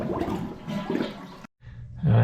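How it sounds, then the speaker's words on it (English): A toilet flushes with a rushing swirl of water, a brief pause, then a louder gurgling surge as the tank refills. "Second thing we're going to do is flush the toilet"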